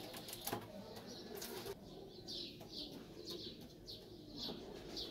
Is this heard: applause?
no